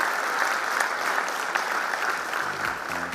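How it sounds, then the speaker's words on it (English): Audience applause at a fintech conference session on premium banking, a dense steady burst of clapping from a crowd that holds even for about three seconds and thins slightly at the end. "So big round of applause for you, Mr. Vaidyanathan."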